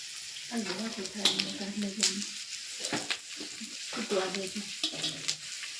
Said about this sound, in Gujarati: ઘી હવે તો જો ગુંદ હવે શેકાઈ તરાઈ ગયો છે